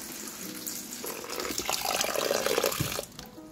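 Tap water runs steadily into a bowl to rinse freshly harvested basil, a continuous splashing gush that swells as the bowl fills and then cuts off near the end.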